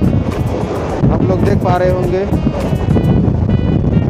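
Loud, constant wind roars past a fast-moving diesel local train in Chennai, Tamil Nadu, with someone talking over the rushing buffeting.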